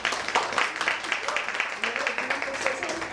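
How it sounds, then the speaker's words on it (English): A crowd claps for a judge introduced at a spoken word talent competition, a dense continuous patter of many hands with a talking voice running over it throughout. "Let's give him a round of applause."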